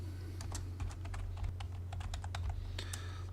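Quick keystrokes tapped out on a computer keyboard to enter a drafting-software shortcut, a short burst of close, crisp clicks over a steady low hum.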